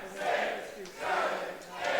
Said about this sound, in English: This crowd counting off these shots here.